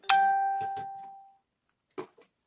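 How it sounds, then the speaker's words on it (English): Phone notification chimes sound, a bright bell-like ding ringing out and decaying, followed by a few quieter short blips after a pause, all in an otherwise silent room. "Sorry about all the notifications, y'all."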